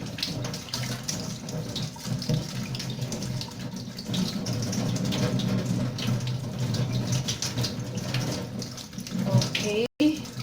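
Tap water runs steadily into a kitchen sink while potatoes are scrubbed clean by hand. A close, continuous splashing stream carries on with faint handling sounds and a brief dip near the end.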